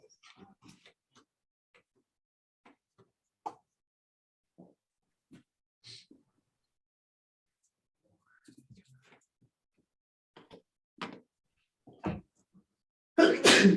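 Scattered soft thumps and rustles in a quiet room, then a single loud, sudden sneeze bursts out at the very end.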